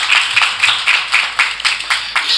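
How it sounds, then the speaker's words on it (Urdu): Loud rhythmic clapping from a congregation at a Sunday church service, steady repeated claps at an even pace filling the whole moment with no talk over it. "زوردار تالیاں لگا دیا کرو"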